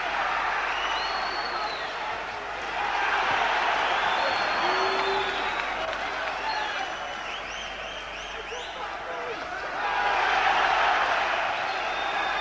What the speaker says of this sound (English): And the crowd loving it, of course, when Cowdell makes Daho miss.